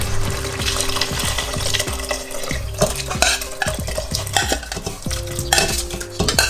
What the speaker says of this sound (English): So that's just diced beef. Stir that in.